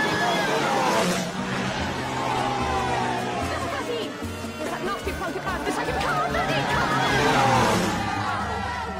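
A racing car passes during a motor race, its engine swelling and fading against a crowd's chatter and hubbub, with an excited voice calling out over the din.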